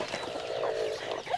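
Hens in a coop give a short run of soft, throaty clucks, close and fairly loud, with a brief higher squawk at the end and no talking.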